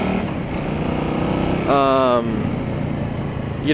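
Motorcycle with over 10,000 miles ridden and turning, a steady engine drone with a brief rise in revs mid-way, heard close beneath a rider's ongoing talk.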